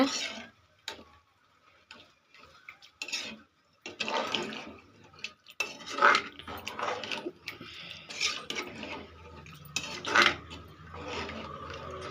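Metal utensil scrapes and clinks against a pot in irregular bursts, with wet sloshing as chicken curry with added water is stirred, close by and fairly quiet.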